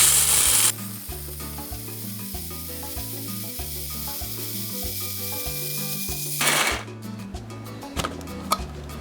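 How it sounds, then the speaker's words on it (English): A small electric coffee grinder whirs steadily while grinding dried black beans into flour, loud and continuous for several seconds, then cuts off and the beans rattle briefly as it spins down. "For that I'm using a little coffee grinder."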